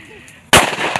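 A single sharp firecracker bang bursts loud and close during Makar Sankranti celebrations, following a quiet stretch, with a crackling tail fading afterward.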